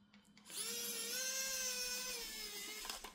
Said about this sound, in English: we can see two more screws which are holding the camera inside. So let's also open them